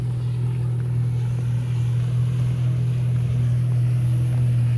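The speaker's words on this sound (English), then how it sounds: "Nah, probably not with that jet ski coming" Jet ski engine droning on water near a walking path, a steady low hum that holds at constant loudness across the clip without speech.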